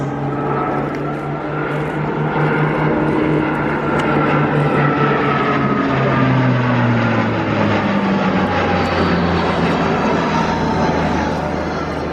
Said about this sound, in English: Verticalizing again, the C-27 J Spartan over RIAT 2025 sky.